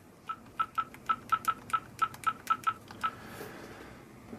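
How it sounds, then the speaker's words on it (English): A phone's ringing tone, made by calling the phone to demonstrate rejecting a call on a Samsung Gear Fit band, sounds as about eleven short, evenly spaced beeps at a steady pitch, followed by a faint lingering hiss. "So I'm just ringing my phone"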